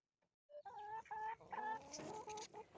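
Several farm chickens cluck in short, overlapping harmonic calls, fairly close and steady after a brief quiet start, with no talk.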